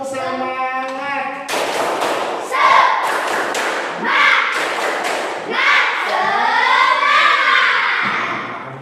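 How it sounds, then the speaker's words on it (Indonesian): A group repeats the tepuk semangat spirit clap, with a rhythmic series of sharp thudding claps in a set pattern, interleaved with chanted voices and a leader speaking before and after. "Satu kali lagi. Siap? Tepuk semangat."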